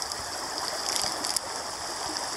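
River water flows in a steady, close rushing wash with light splashy trickles, alone with no voices.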